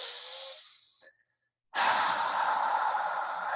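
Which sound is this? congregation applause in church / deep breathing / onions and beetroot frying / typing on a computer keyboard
deep breathing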